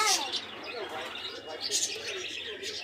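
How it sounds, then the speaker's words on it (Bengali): Busy, high-pitched chirps and twitters from several small finches of various colours close by at a bird farm in Bangladesh, overlapping in quick bursts. "এখানে ফিঞ্চ আছে দেখেন বিভিন্ন কালারের"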